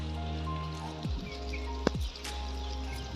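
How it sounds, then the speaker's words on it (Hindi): Heavy rain pours down in Punjab, Pakistan, a dense, steady hiss that fills the scene, with a couple of low whooshing sweeps passing through and a brief sharp click near the middle. "जिधर देखेंगे आपको बारिश ही बारिश नजर आएगी। Still raining."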